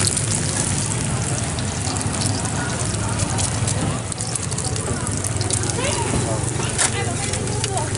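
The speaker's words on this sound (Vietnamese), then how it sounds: "đầu bếp đang đổ trứng vào" Busy, dense sizzling of egg and batter frying on a hot griddle at a street food stall by the Saigon River, with crackles and steady hiss, amid voices and background chatter.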